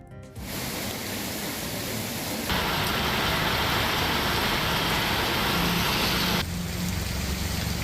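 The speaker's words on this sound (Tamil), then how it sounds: "புதுச்சேரியில் முத்தியால்பேட்டை, நெல்லித்தோப்பு, வில்லியனூர் உள்ளிட்ட பகுதிகளில் கனமழை" Heavy nighttime rain pouring in Puducherry's Muthialpet, Nellithope and Villianur areas, a dense, unbroken hiss that swells louder midway and then eases slightly.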